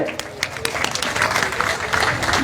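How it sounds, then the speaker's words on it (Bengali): Applause and clapping from a crowd at a sit-in protest demanding a ninth pay scale: dense, continuous clapping with sharp hand-claps standing out, fairly close and steady throughout. "আমরা তাদেরকে সবাইকে শুভেচ্ছা জানাই হাততালি দিয়ে"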